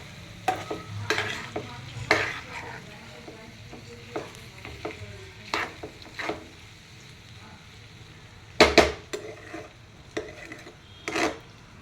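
Okra and potato stirred in a pan, a spoon scraping and rasping against the pan in irregular strokes over a soft sizzle, with a few sharper louder scrapes later on.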